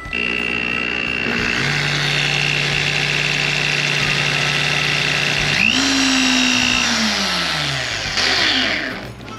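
A power drill run from a 12.8V lithium iron power station whines loudly and continuously, its motor pitch shifting as it speeds up and slows down, with a faint hum underneath.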